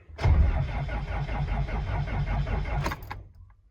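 A Land Rover Series 3, unstarted for several weeks, cranks steadily with a rhythmic chugging starter for about three seconds and never catches, then stops with a couple of clicks, close and fairly loud.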